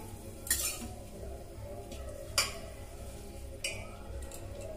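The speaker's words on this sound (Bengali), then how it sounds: "শুকনো লঙ্কাটা লাল করে ভেজে নেব।" Dried red chillies frying in ghee in a home kitchen pan, a low steady sizzle beneath sharp metallic clinks and scrapes of a spoon against the pan at three separate moments.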